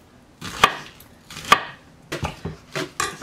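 A knife cuts through rolled bok choy on a cutting board in a series of sharp, close chops, two spaced strokes followed by a quicker run of four or five.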